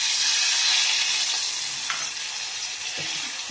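Tadka of spices and oil sizzling loudly as it is poured into vakkaya pappu, a Telugu dal made with karonda berries, a steady bright hiss with a few soft stirring knocks near the end.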